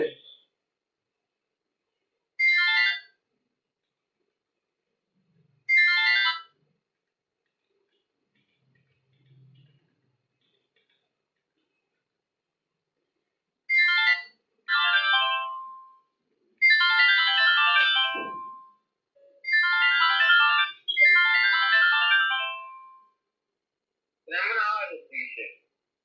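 A phone's ringtone melody plays in short repeated bursts separated by silent gaps, clear and nearby, the bursts clustering closer together toward the end.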